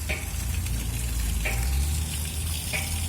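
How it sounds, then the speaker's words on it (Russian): Water splashing and trickling down a green, wet slope in central Tbilisi, a steady close rushing wash with a few brighter drip spikes recurring through it, no voices. "А здесь она прям так водопадом."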